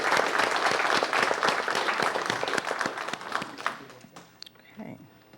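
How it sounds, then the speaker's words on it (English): Audience applause at a city council meeting, dense and loud clapping from a seated crowd that holds steady for several seconds before thinning out to scattered claps and faint room noise. "Everyone, give him a round of applause."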